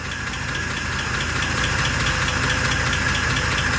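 A 1948 Pontiac Torpedo engine runs steadily and loud, close up, with a continuous rough idle and a rapid ticking knock from the valve or lifter area throughout, no talk over it.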